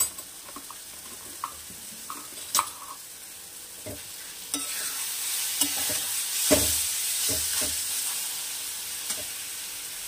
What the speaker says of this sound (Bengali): আর একটু ভাজা ভাজা হবে